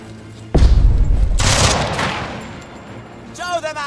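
Gunfire in the Jagged Alliance 3 video game: one loud burst of shots lasting about a second, then a second rattling volley that rings out and fades, close and punchy.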